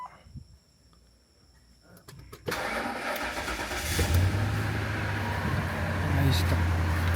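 A Ford Expedition SUV that has sat unused cranks briefly after a quiet pause, catches and settles into a steady, close idle with a low engine hum, while people talk nearby.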